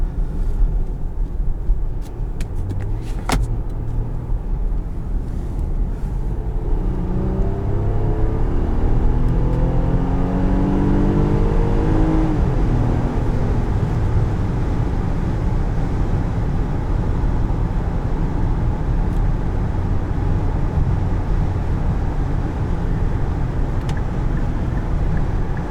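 A 2022 Infiniti QX60 Pure with a 3.5-liter naturally aspirated V6 and 9-speed transmission accelerates, engine drone rising in pitch over several seconds beneath steady road and cabin noise, then settling into a cruise hum.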